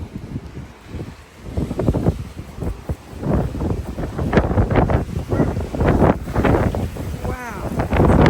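Strong gusty evening wind outdoors in Las Vegas buffets the microphone with a loud, roaring, fluctuating rush, while a person talks under it.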